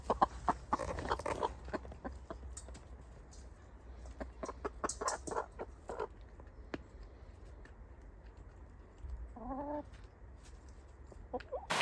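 Chickens cluck in a backyard coop, with soft scattered clucks and short calls near and far, a brief warbling call partway through, and quiet stretches between them.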